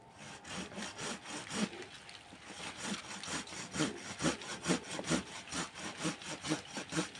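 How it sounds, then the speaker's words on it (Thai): A folding hand saw rasps through wood in quick back-and-forth strokes, starting loosely and settling into a steady rhythm, close and fairly loud. "ก็จะเลื่อยด้วยนะครับเลื่อยตัวนี้ครับ"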